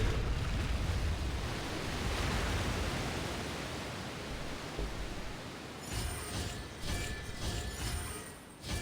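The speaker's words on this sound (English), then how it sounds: "The water's flowed into the groove, and now the statues have lit up." In Genshin Impact, water rushes into a stone groove as a steady broad hiss and wash that slowly fades, followed by faint chiming tones as statues light up.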